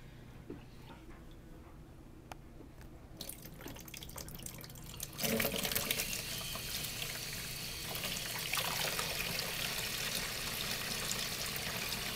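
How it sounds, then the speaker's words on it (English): Tap water runs and pours over a theatre costume shirt soaked with diluted stage blood, starting faintly and then swelling into a strong, continuous gushing splash up close, with no talking. "this is the diluted blood, so you can actually watch as this rinses out"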